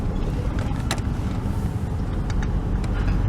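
A 1996 Chevrolet Tahoe engine running with a raised, surging idle as the transmission is put in gear, a steady loud low drone throughout with a few faint clicks on top.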